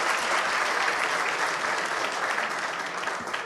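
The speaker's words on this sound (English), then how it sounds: "Let's give them a round of applause." An audience applauds steadily at a keynote address, the dense clapping staying loud and even for several seconds before easing slightly at the end.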